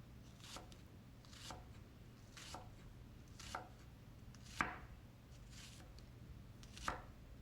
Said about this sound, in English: when I'm cutting the onions, I'll cut thin sections, almost stringy like